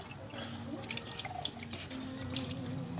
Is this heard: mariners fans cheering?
no